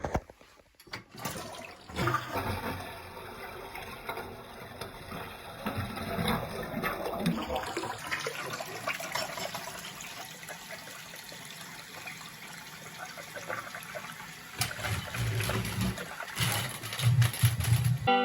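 A toilet flushes after a clog has been worked on with a Kobalt auger, water rushing and gurgling at close range, then a long trickle as the bowl refills, with occasional clunks.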